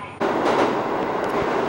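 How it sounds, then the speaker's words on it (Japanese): An early morning local train on a Kintetsu line in Japan is heard from on board, a steady loud rumble of wheels and motor starting abruptly, with faint clicks over the rail noise. "いいな、朝の普通列車"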